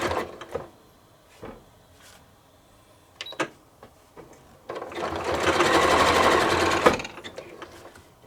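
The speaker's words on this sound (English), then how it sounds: "I'm going to touch the button to turn on the zigzag stitch on my sewing machine" A home sewing machine running a zigzag stitch on a quilted bunny mug rug: a few soft clicks and handling noises, then a steady, close whirring motor burst of about two seconds that stops abruptly.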